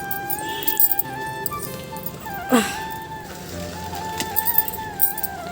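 A black dog gives a short, rising-and-falling whimper midway through, close by, over a steady tonal background hum with a few soft yips around it.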